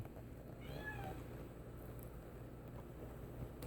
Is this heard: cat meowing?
yes